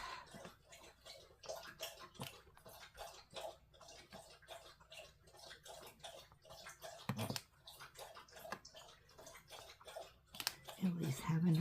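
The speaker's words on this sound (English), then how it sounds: "having her a drink of water." A pet dog laps water from a bowl indoors, a quick steady run of soft wet clicks for several seconds with a faint voice now and then.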